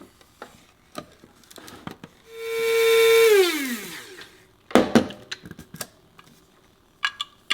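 Whole psyllium husk being ground in a small electric grinder, a steady whirring motor burst of about two seconds that rises and then winds down, with a few clicks and knocks from handling before and after.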